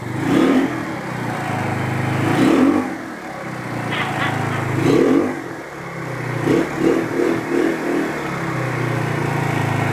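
A 50cc GY6 scooter engine fitted with a big bore kit revs in several loud, close bursts, rising and falling over a rough idle with some mechanical clatter.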